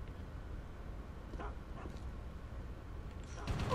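Dogs barking in the video game Geist, a few faint, brief yaps set back in the mix against a steady background hum, with a slightly louder burst near the end.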